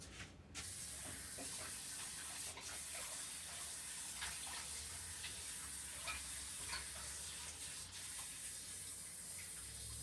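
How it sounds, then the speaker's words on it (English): Hands being washed under a running kitchen tap, a steady broadband water rush that runs almost without break for about ten seconds with faint splashes on top, close and moderately loud, with no talking. "Let me wash my hands again"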